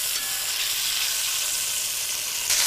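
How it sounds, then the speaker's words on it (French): Galloway beef browning in oil and butter in a pan, with a steady, close sizzle that stays even throughout without any talking. "de mettre de l'huile et du beurre et de faire revenir notre pièce de viande"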